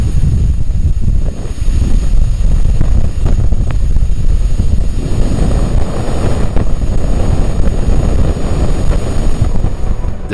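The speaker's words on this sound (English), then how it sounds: "The faint sound you just heard is coming from the solar wind interacting with Venus," Solar wind interacting with Venus, picked up by the BepiColombo spacecraft's magnetic and accelerometer data and turned into sound, comes through as a steady rushing, rumbling roar like wind buffeting a microphone, with a thin high whine above.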